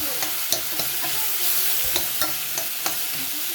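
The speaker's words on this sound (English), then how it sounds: "Stir the rice really good now." Rice with butter is stirred in a pot over heat, a soft continuous sizzle punctuated by about eight light scraping and knocking strokes of a spoon against the pot in an uneven rhythm.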